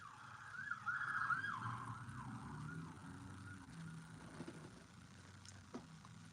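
A siren wails in the distance with rising and falling tones over low traffic rumble, fairly faint and continuous.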